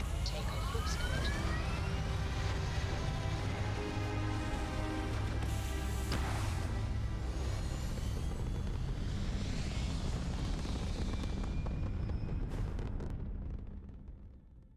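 A spaceship lifts off in Starfield with a loud, roaring rumble and rising whine that holds strong for most of the takeoff before fading at the end, with a voice talking over it.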